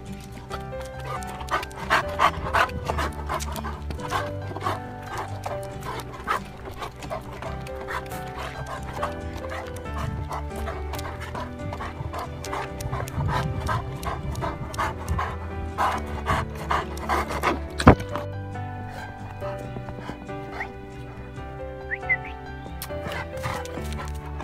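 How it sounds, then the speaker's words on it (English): A dog pants steadily in quick rhythmic breaths close by, with a few yips and whimpers mixed in, over a busy background with some talking. "Are you a happy dog?"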